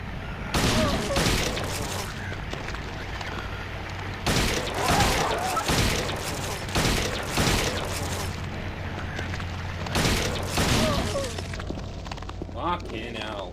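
Gunfire in Silent Hill, loud booming shots repeating at roughly even intervals, heavy and reverberant, with speech in between.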